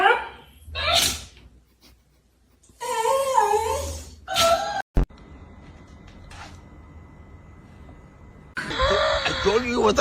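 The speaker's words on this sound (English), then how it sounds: "I told you it was a little kitty." A small kitten gives a few high, thin meows in short bursts between pauses, close by, mixed with people talking and a sharp knock.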